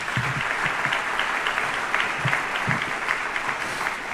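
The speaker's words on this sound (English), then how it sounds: "Yeah, I'll clap for that." Applause from the crowd at a military retirement ceremony for a Vice Chairman of the Joint Chiefs of Staff, steady and full throughout, with faint voices mixed into the clapping.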